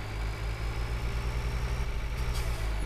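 A tractor engine in the Farming Simulator 2013 video game runs at a steady idle, a continuous low rumble with even pulsing throughout and no voices.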